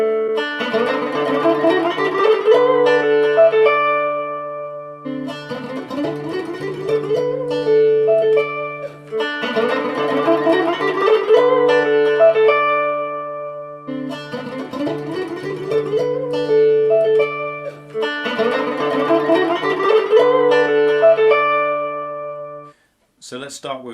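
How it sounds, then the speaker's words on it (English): An electric guitar with a touch of drive, EQ and compression, run through a pedal for an enhanced clean tone, plays a repeating melodic phrase of ringing sustained notes, loud and close, pausing briefly between passes. "Now with the little bit of drive,"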